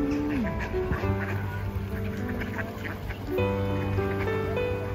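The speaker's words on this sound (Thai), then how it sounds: "มาตรงนี้ก็เห็นฝูงนกและฝูงเป็ดนะคะ" A flock of ducks quacks while schoolchildren feed them by the water, with gulls nearby. Many close, overlapping quacks carry on nonstop, and faint voices sound in the background.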